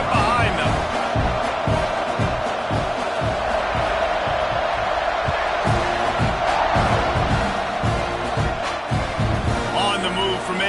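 A football stadium crowd roars before a kickoff in a college football video game, a loud, sustained wall of cheering and shouting, with a commentator talking over it.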